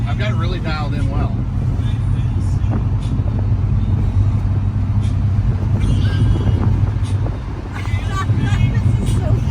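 A Ford Maverick, driven by its original owner, runs steadily on the road with a continuous low engine drone and road noise, with people talking over it throughout.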